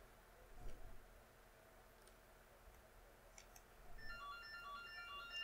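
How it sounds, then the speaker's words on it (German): A telephone rings faintly in a quiet room partway through a video game session, its short repeated electronic tones entering near the end over soft background hiss and a few scattered clicks. "Ah, jetzt ist das Telefon."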